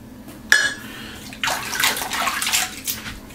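A bathroom tap runs into a sink during a shave with a triple blade cartridge, a brief splash and clink first, then a loud, steady gush of water that swells and fluctuates.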